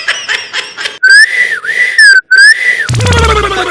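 Several loud, shrill whistles ring out one after another from an audience at a televised band show, broken by brief pauses, before a burst of music and noise cuts in.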